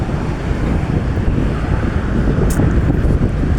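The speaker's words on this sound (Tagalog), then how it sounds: "Medyo ano yung hangin Medyo may hangin siya" Steady gusty wind buffeting the microphone outdoors by the sea, a continuous low roar with a faint rush like surf underneath, no voices.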